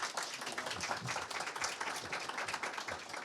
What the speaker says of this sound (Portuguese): Palmas para o Marcelo